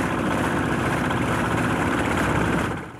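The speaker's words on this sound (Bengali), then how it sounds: "একটু দূরে নিয়ে গিয়ে স্টার্ট দেয়া হলো শ্যালো ইঞ্জিনের।" A shallow engine on a wooden river boat on the Buriganga in Dhaka runs in a steady, loud, low drone with a rattling throb, continuous throughout and easing slightly at the very end.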